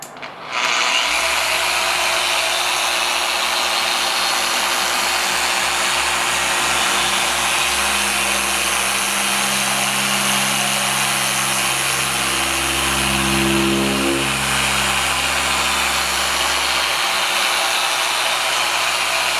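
A machine polisher applies compound to the paint stripes on a MINI Cooper, a steady loud whirring drone that starts abruptly and shifts a little in pitch as it works, close and continuous, with no voices.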